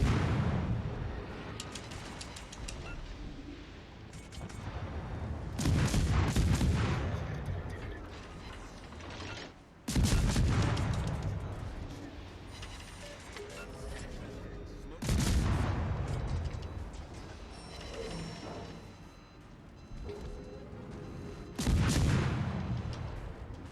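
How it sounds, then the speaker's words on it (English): Battleship salvos in a naval combat game ring out as four or five heavy booming volleys spaced several seconds apart, each a sharp crack followed by a rolling rumble that decays before the next shot. "I got that salvo off."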